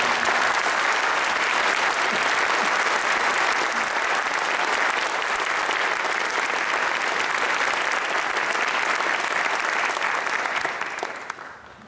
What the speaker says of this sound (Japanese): 会場の皆様、今一度盛大な拍手をお願いします